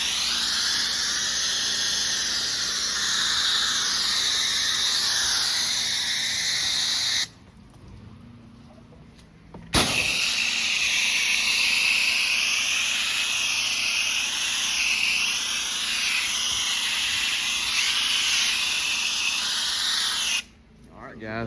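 A pressure washer spraying concrete at a large apartment complex: a loud, steady high-pitched hiss with a whining engine tone, cutting out briefly twice before resuming.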